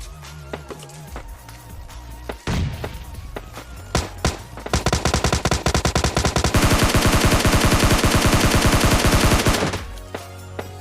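Gunfire in PUBG Lite: a few scattered shots and footsteps, then sustained rapid automatic bursts that run for several seconds before cutting off, loud and close.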